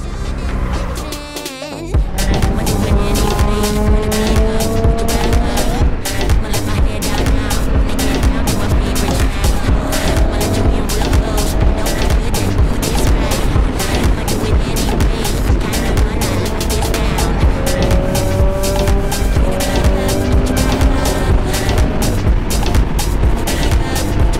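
A Triumph Daytona 675R with an Arrow exhaust is ridden fast, its engine loud and close throughout, revving up and down repeatedly in rising and falling sweeps.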